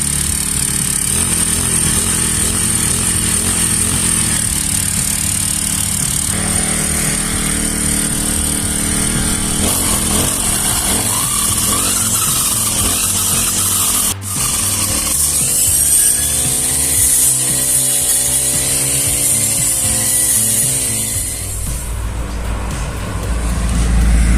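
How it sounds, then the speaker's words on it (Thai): A small four-stroke grass trimmer engine runs steadily and loudly throughout, with a buzzing, revving tone that shifts in pitch as the throttle changes, no voices over it. "นี่นะครับการเสียงเครื่องจะประมาณนี้นะครับ"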